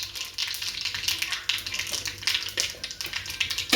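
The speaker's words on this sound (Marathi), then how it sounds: "मोहरीची फोडणी बनवली चटणी टाकायसाठी." Mustard seeds crackle and sizzle in hot oil, a tempering for a raw mango and papad chutney, giving close, continuous popping bursts.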